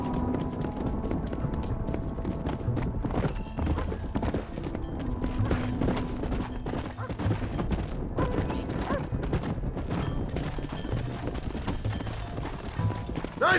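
Horse hooves clip-clop steadily at a walking pace through a Red Dead Redemption ranch scene, with faint creaks and mechanical noises mixed in and no talk.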